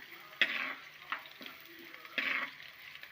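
Shallots and garlic frying gently in a pan for Kerala-style fish curry, a soft sizzle broken by several scraping stirs of a spoon against the pan, close and quiet with no talking.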